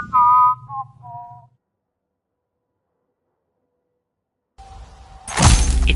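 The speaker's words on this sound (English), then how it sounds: "Engaging whistling subroutine." A robot in the video game Everreach: Project Eden whistles a short, electronic-sounding tune of a few notes, followed by silence, then a low tone and a sudden crashing burst.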